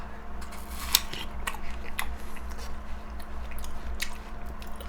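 Someone bites into and chews yellow watermelon up close, with wet crunchy bites and juicy squishes repeating at an uneven pace over a low steady background hum; no talking.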